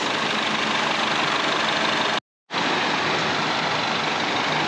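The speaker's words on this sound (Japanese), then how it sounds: "5分10分ほっといた後のエンジン音をね、 はい、 じゃあちょっと測定していきたいと思います" A Citroën engine idles after five to ten minutes running, with oil additive added; a steady, broadband drone close by, cutting out abruptly for a moment before resuming at the same even level.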